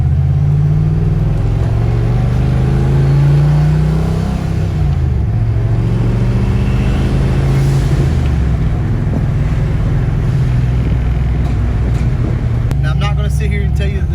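A tuned car idles and revs after its open downpipe has been replaced. The engine and exhaust rumble low and loud throughout and rise and fall with the throttle, while people talk over the noise.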